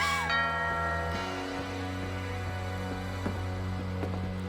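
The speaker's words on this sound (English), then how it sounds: "Doorbell." A sustained electronic doorbell chime from the video game What Remains of Edith Finch rings out, layered synthetic notes holding steadily with a few soft clicks.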